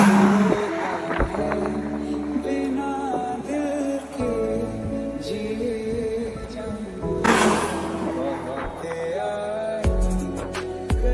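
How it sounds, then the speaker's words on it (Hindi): Cars pulling out through a house gate, engines rumbling and revving close by with a brief tire squeal, a steady vehicle drone throughout and voices faintly in the background. "अब गाड़ियां निकल रही हैं"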